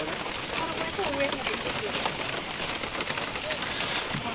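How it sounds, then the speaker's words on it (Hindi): Heavy rain falls steadily in Khumulwng Park, a dense continuous hiss throughout, while people talk over it. "बारिश बहुत तेज है"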